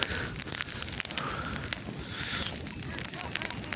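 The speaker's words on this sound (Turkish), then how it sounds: "Güzel bir ateş yaktık." A campfire crackles and pops steadily nearby with sharp irregular snaps, set against a freezing snowy mountain outdoor background with faint voices.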